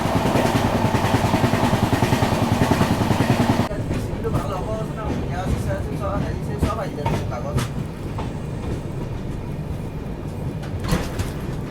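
The Dibrugarh Rajdhani Express runs through West Bengal, a loud rushing rumble giving way to rattling, clicking carriage noise and wheel clatter heard from inside, with a voice talking over it.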